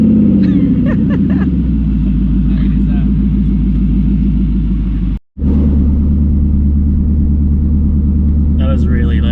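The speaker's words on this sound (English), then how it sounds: "Not very often you get to experience your car without exhaust, especially a V8." A V8 car runs with no exhaust fitted, its engine a loud, deep, raw rumble up close, revving in swells and briefly cutting out before roaring again.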